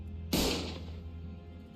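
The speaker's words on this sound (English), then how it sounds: "Gunfire filled my ears" A single gunshot in the video game Limbus Company, one sharp loud crack followed by a ringing tail that decays slowly over a low steady background hum.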